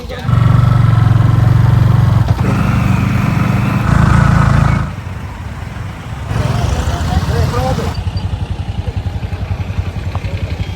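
Motorcycle engines rumble loudly and steadily, a couple of bikes passing close one after another on the way to a waterfall opening event, with a busy outdoor background throughout.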